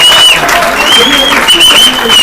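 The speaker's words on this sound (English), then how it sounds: "As you can hear, the crowd are going crazy" A big crowd roars and applauds at a France versus Italy Euro Cup semi-final, a loud, dense wall of cheering with whistles rising above it.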